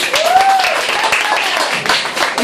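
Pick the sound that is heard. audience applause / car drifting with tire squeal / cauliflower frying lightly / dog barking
audience applause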